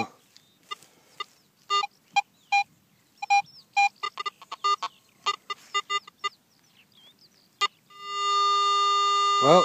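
A metal detector held over a dug hole in a field gives a run of short, sharp beeps of varying pitch, then a sustained steady tone near the end; no talk.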